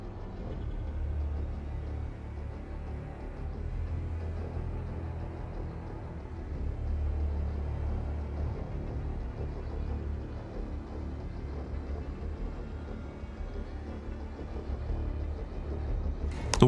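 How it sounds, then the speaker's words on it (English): A car drives into a dark, narrow tunnel, its engine a low, steady rumble heard close from inside, continuous and even throughout with a faint swell partway through and a sharp click at the very end. "A car enters a dark, narrow tunnel, the atmosphere immediately feeling heavy and unsettling as they drive further in"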